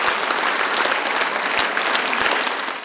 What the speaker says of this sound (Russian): Каждое выступление артистов вызывало у зрителей бурные овации.